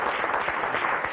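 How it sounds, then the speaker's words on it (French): Studio audience on a French word game show gives a brief burst of applause for a contestant, a steady, even roar of many hands lasting about a second. "On va l'applaudir, Christine"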